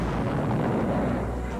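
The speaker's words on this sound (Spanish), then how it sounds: "Explosiones provocadas, como la de este Boeing, sirven para que la industria aeronáutica siga investigando." A deliberately set-off explosion of a Boeing airliner: a loud, sustained roaring rumble with deep low-end weight that holds steady for the whole moment without easing.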